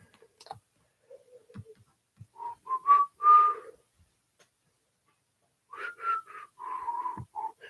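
A person whistles a tune in short, soft phrases separated by a long pause, close but quiet, with faint clicks and small room sounds in between.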